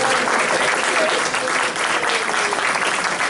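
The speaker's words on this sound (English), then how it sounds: "please stand up and let's thank you with a round of applause" A church congregation gives a dense, loud round of applause, many hands clapping in a steady, sustained wash with a faint murmur of voices underneath.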